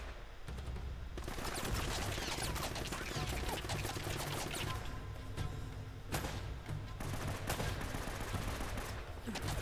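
Gunfire from Uncharted: Drake's Fortune crackles in bursts of rapid shots and scattered single reports, loud and dense against a low rumbling game backdrop, with brief lulls between volleys.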